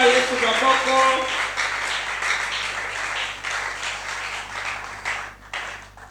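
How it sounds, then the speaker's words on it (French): A church congregation applauding and cheering in acclamation during a service, dense sustained clapping with raised voices at the start, gradually thinning toward the end. "Acclamons très fort pour la gloire de Dieu."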